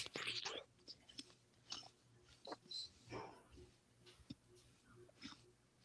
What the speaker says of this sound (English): I'm just letting the viewers listen to you munch that apple right now.